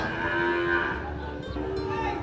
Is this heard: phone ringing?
no